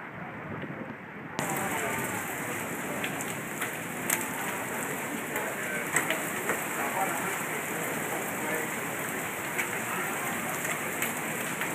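Heavy storm rain with flooding pours in a steady, dense hiss on surfaces close by, broken by scattered sharper drops and splashes, continuing throughout after a sudden louder onset.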